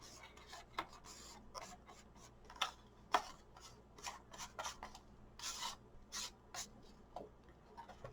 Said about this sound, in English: and then just brush it off